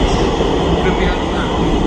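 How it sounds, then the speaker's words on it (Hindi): An underground metro train in Kanpur rumbles steadily along the rails while arriving, a continuous low roar, fairly close, while faint voices carry beneath the noise. "ये सामने घंटाघर से आ रही है मेट्रो।"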